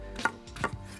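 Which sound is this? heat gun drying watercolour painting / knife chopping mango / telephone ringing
knife chopping mango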